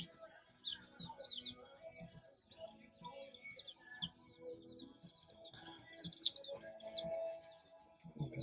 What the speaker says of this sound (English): And here's some chickens right here.